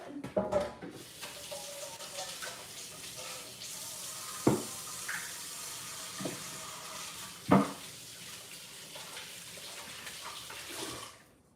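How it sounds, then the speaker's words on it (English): Water runs steadily from a tap with a broad hiss, broken by a few sharp knocks and splashes as hands move under the stream. "Now I'm gonna wash my hands"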